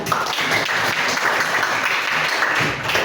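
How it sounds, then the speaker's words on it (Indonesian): Dense, continuous applause from a whole class of students fills the room, loud and near, holding steady for several seconds without speech. "Oke, tepuk tangan dulu untuk kita semua ya"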